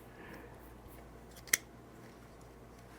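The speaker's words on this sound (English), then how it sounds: "Let me coarsely cut this off and then I'll trim it later." A single crisp snip as plastic parts are coarsely cut from the runner of a Mini4WD kit, sharp and close against a quiet room.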